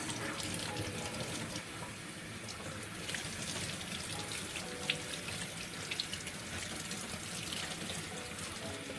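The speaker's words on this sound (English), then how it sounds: "Now we want to rinse off all those salt." Salted napa cabbage being rinsed under a running kitchen tap, a steady quiet splash and patter of water into the sink, close and continuous, no talk.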